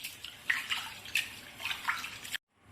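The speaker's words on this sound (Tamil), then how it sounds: "இப்போது கேரட் பருப்பு சாம்பார் சாதம் செய்யறதுக்கு பருப்பை அரிசியும் கழுவி போட்டுக்கலாம்." Rice and toor dal are swished and rinsed in water for carrot dal sambar rice, making soft splashing and dripping sounds in several uneven bursts, close and quiet, ending abruptly.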